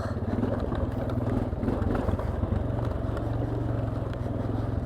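Honda Foreman 450ES ATV engine running steadily while riding over overgrown ground, a continuous low, throbbing mid-pitched drone with clattery mechanical texture and constant loudness throughout.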